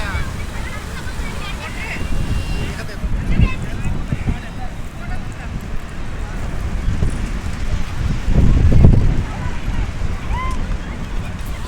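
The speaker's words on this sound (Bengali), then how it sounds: "অসাধারণ লাগছে দেখুন সকালের সমুদ্রটা" Morning sea shore at Digha with steady wind rushing across the microphone and surf rolling in the background, one louder gust-and-wave swell near the end, and people talking over it.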